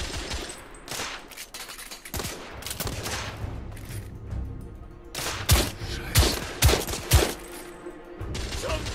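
Rifle fire in the Victorian-era action game The Order: 1886 sounds as a rapid series of gunshots, with heavier, booming single shots standing out near the end.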